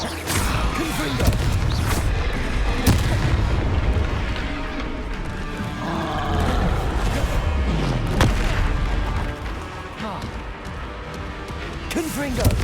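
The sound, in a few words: Confringo spell blasts in video game Hogwarts Legacy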